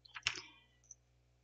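A computer mouse double-clicks close and quietly, two crisp clicks in quick succession followed by a fainter single tick in an otherwise hushed room.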